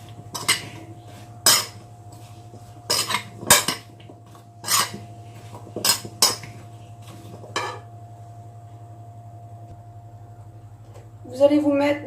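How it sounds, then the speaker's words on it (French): A utensil scrapes and clinks against a bowl as grated cheese is mixed into a sweet potato gratin mixture, in a series of separate close stirring knocks followed by a brief clatter. "Donc je mélange."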